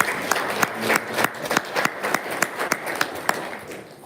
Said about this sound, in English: So we can give them a round of applause for just joining us today.